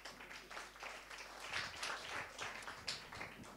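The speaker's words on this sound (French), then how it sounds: "qu'on peut applaudir aussi" Audience applause in a hall at an evening science talk on the environment, a steady wash of many clapping hands at moderate volume, lasting throughout with no voices on top.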